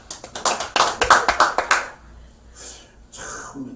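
Audience at a Bible lecture breaking into clapping, a quick burst of sharp, close hand claps for about two seconds that stops abruptly, followed by faint murmured voices.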